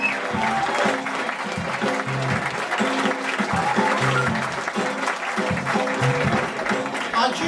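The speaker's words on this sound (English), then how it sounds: "A huge round of applause for Rury Mason!" Applause from a comedy club audience after a first-time stand-up comedian's set, sustained and fairly steady for several seconds, with a low hum and faint voices beneath it.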